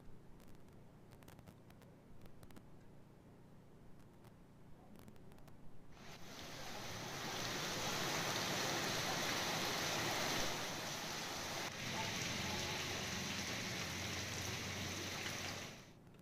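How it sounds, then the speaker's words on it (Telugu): Heavy rain from Cyclone Fengal in Tamil Nadu starts as a faint patter, then swells at about six seconds into a loud, steady roar of downpour that continues to the end. "తమిళనాడులో కుండపోత వర్షాలు కురుస్తున్నాయి."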